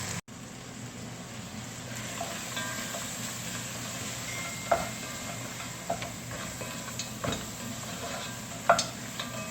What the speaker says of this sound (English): I'm gonna toast this in its juices.